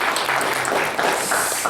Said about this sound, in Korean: 이렇게 영광의 박수 올려드리겠습니다.